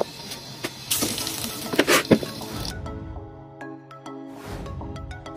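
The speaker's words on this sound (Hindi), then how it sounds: "ये अब घी गरम हो गया, अब बारी चिप्स डालेंगे" Potato chips fry in hot ghee with a wet, crackling sizzle, louder bursts and squishy splatters early on settling into a softer steady bubbling, close up.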